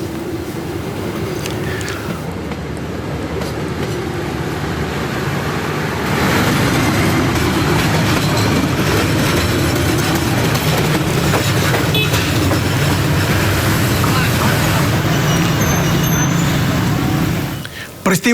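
A train rolls through a level crossing in Cimahi, West Java, its loud continuous rumble and clatter growing heavier partway through and holding steady until the end, with traffic noise and faint voices underneath.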